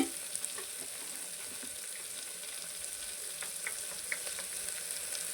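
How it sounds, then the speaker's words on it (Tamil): Four tomatoes sauté in a pan with a steady, soft sizzle, punctuated by occasional faint pops and stirring scrapes. No one speaks. "ஒரு 4 தக்காளி போட்டு இதையும் நல்லா வதக்கிடுவோம்"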